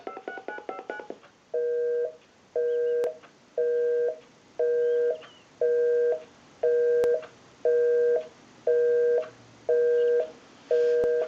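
A Spirit of St. Louis Mark IV telephone on speakerphone plays a quick burst of dialing tones, then a busy signal of evenly spaced beeps repeating about once a second.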